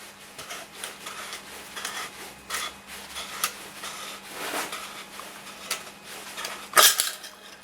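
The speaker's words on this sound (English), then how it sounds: "so out comes the screwdriver, and then let's just unscrew this." A screwdriver unscrews parts of a Hatsan MPA 9+1 air rifle magazine, with faint metallic scraping, light clicks and handling rubs up close, ending in a sharper clack.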